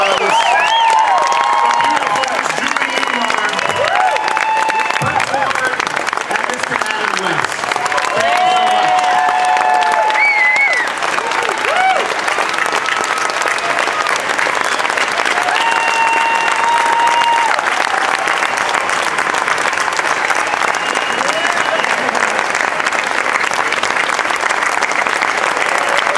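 A large Comic Con panel audience bursts into sustained, loud applause with cheering, a dense wall of clapping that continues throughout while voices call out over the crowd.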